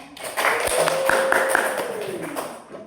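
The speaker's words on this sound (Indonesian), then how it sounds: "Boleh tepuk tangan dulu untuk temannya." A class of students claps for a classmate after a presentation, a short patter of a few hands with scattered taps, steady and moderately loud for a couple of seconds before fading out.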